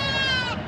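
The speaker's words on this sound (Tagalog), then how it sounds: "malalaking kambing ho yan, mga pambreed." Large breeding goats at a livestock market let out a short, close bleat with a wavering pitch over a murmur of market crowd noise.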